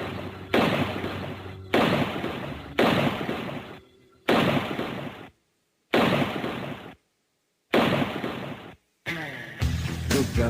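Repeated loud bursts from a gold-plated, ivory-handled Colt 45 automatic pistol, six heavy blasts spaced roughly a second or two apart with brief silences between them, ending in denser clattering noise.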